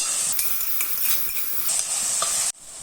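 Crushed garlic, ginger and green chilli sauté in a pan for fried chicken biryani, giving a steady close sizzle with scraping stirs throughout, cutting off sharply near the end.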